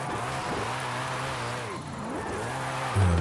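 Noble supercar drifting sideways in Forza Horizon 5, engine droning and wavering as revs rise and fall, tires scrubbing underneath, ending with a louder rev burst.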